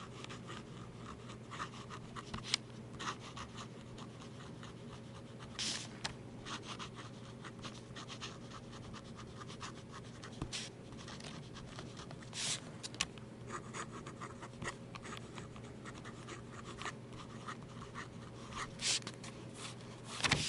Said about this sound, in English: do a writing sample of the blue Sequoia that I have